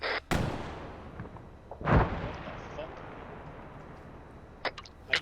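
A shoulder-fired rocket launcher goes off at a barracks in the military shooter game Arma 3, giving a sharp launch bang followed by a heavy, booming impact about a second and a half later, then a fading rumble and a few smaller clicks.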